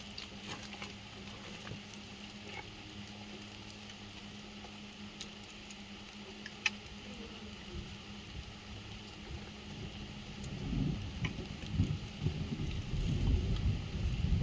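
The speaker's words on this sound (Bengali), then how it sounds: "জোর বৃষ্টিটা এসে গেছে আর বসা যাবে না" Heavy rain arrives outdoors while seedlings are being planted, a steady broadband patter swelling sharply louder toward the end with wind-like rumble on the microphone.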